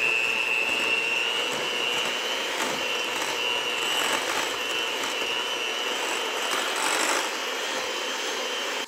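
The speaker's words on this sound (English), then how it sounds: "And then we mix those up with your hand mixer" Electric hand mixer beating softened cream cheese and butter in a bowl, a steady close whir with a rattling edge running unbroken for about nine seconds, no talking.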